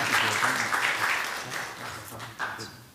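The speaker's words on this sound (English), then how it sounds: "About a round of applause for our board members and our students" A room of people applauds board members and students at a school board meeting, steady broadband clapping filling the whole span with a brief swell near the end and some voices mixed in underneath.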